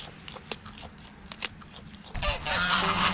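Geese resting under trees on a hot early-summer farm give a few short honks, some near and sharp, before a louder rustling burst of activity at the end.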